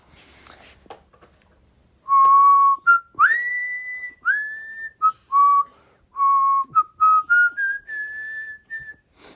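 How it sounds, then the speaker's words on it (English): A lively Swiss folk air whistled by a man, a run of clear, bright sustained notes and quick slides that comes in after a brief quiet stretch and continues steadily to the end. "I began whistling a lively tune, an air from my native Switzerland."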